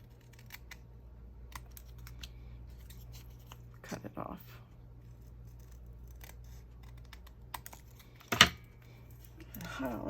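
Scissors snip around the edges of a paper junk journal tag, a few scattered crisp cuts and paper rustles at close range, with a sharper clack near the end.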